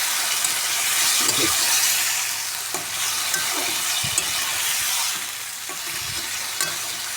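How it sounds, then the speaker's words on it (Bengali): Meat hisses and sizzles in smoking-hot oil in a kadai while being stirred, a loud continuous frying crackle with intermittent scraping clinks of the spatula, no voices. "কড়াইতে তেল দিয়ে দিয়েছি, দেখো ধোঁয়া উঠতে শুরু করেছে। চলো, মাংসটা ঢেলে দেবো এর ভিতরে।"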